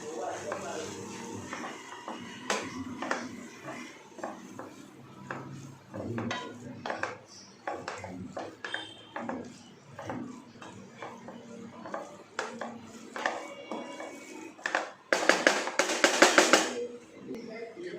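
Boiled noodles are stirred and mixed in a pot, with steady clinking and scraping of utensil against metal and a louder clatter near the end.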